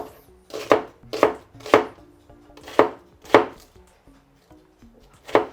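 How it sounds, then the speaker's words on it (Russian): A knife dices onion on a cutting board in rapid, crisp, evenly spaced strikes, close up and alone, with brief pauses between runs. "Я нарезаю лук таким мелким кубиком."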